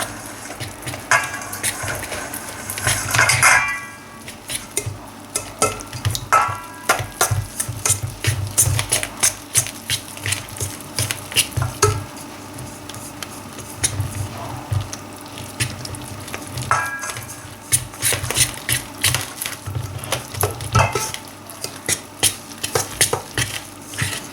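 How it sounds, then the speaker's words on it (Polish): Orange muffin batter being stirred in a bowl as liquid is slowly poured in, with steady scraping and clinking of a utensil against the bowl continuing throughout, no talking. "cały czas tu sobie mieszajcie i powoli dolewajcie"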